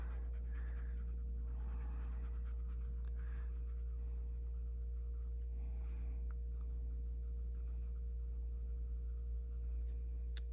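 A coloring pencil lightly shades across a coloring book page, a soft continuous scratchy stroking over a constant low background hum.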